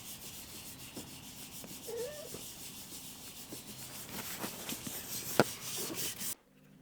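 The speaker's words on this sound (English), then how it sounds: "Next, we got the legs ready for assembly by sanding and drilling holes." Wooden furniture legs being sanded give a steady, close rubbing and scratching sound in repeated strokes, with one sharp tap near the end before it stops abruptly.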